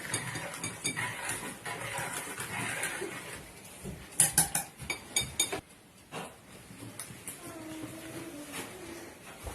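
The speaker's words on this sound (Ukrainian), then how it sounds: "А зараз доливаємо наше молоко та перемішуємо та ставимо на вогонь до закипання" A metal utensil stirs milk in a pot, clinking and scraping, with a run of quick clanks in the middle, under faint background noise.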